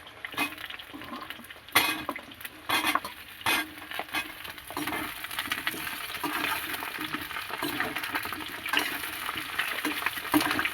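Potato and cauliflower pieces fry in oil for a vegetable biryani, a constant close sizzle broken by repeated stirring and tossing scrapes, with nobody talking.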